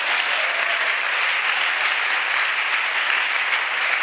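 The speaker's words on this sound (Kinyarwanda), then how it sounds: "komera amashyi umwami Yesu" A church congregation claps hands in dense, sustained applause, a steady uniform roar of many palms lasting throughout, with no talk over it.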